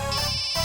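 A mobile phone ringtone trills steadily for a short moment, a bright electronic melody with a low tonal layer under it, heard alone with no talking.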